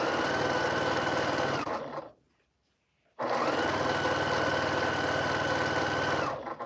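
A sewing machine stitches through a Quilt of Valor, running in two long, steady, loud bursts with a short pause between them and no talking.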